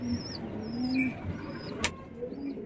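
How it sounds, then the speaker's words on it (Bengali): Soft, low cooing of a male pigeon rolls along steadily while small birds chirp higher up, with one sharp click near the end. "দেখো ছেলে পায়রাটা ভেতরতে ডাকছে"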